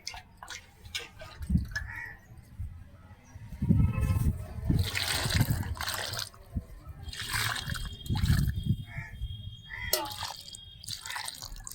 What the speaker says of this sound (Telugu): ఇలా ఇప్పుడు మనం వాటరింగ్ చేసుకుందాం